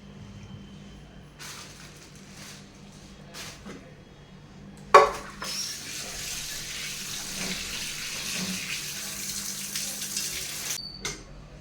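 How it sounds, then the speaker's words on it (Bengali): Two whole chickens washed under running kitchen tap water, the splashing stream starting with a clunk midway and continuing steadily close by, with faint handling noises before it. "এই যে গোটা দুটা চিকেন পুরো নিয়ে চলে আসছে, এবার ধুয়ে কেটে নিতে হবে।"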